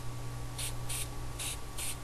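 Spray paint can spraying blue paint onto a waterfall painting, four short hissing bursts in quick succession, close and fairly quiet over a low background hum.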